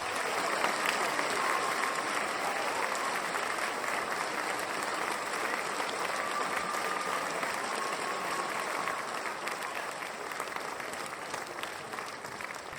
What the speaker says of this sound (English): an Earthkeeper round of applause for my very good friend, Dr. Robert Schoch